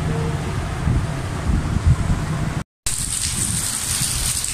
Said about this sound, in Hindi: ये देख कितनी मूसलाधार बारिश हो रही है यहाँ महमूदाबाद में भी हो रही है।